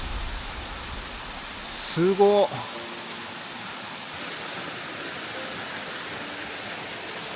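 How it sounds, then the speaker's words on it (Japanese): A waterfall with little water flow, near a hot-spring town in the Hiroshima hills, makes a steady, soft broadband rush that fills the whole stretch. A voice briefly exclaims partway through. "滝は思ったより上でした"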